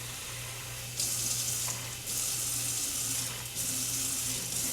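Water poured by eye over measured dry oats in a container, a steady rushing splash in several pours, each lasting about a second, with brief breaks in between, close by and moderately loud.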